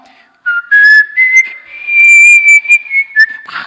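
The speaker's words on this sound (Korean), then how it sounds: "다 같이 휘파람 시작." A church congregation whistles together, carrying a wavering melody, several notes sliding and held over a few seconds, loud and close, with no talking alongside.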